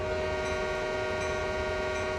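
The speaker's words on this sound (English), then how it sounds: "So we can go ahead and honk the horn." Diesel locomotive horn in Train Sim World 2020 on the CN Oakville Subdivision, a loud, steady chord blown without a break for the full length, heard close with a low engine rumble underneath.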